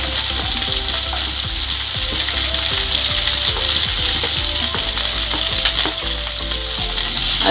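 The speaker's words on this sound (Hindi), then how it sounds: "अब यहाँ पे हमारी फेनुग्रीक की सीड क्रैकल होगी" Fenugreek seeds crackle in hot oil as chopped onions go in for a pumpkin sabji, a loud, dense, continuous frying sizzle with scattered sharp pops and light stirring scrapes, no voices.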